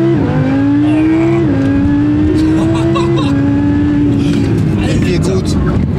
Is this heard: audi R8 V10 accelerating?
yes